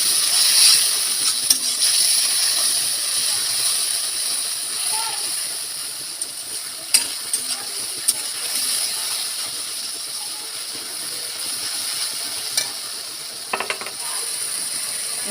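Meat and spices sautéing in a pan for chicken lahori, a continuous bright sizzling hiss with scattered small clicks and clatters.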